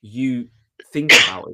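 A single sharp sneeze bursts out loud and close, right after a short stretch of conversational speech and a brief pause.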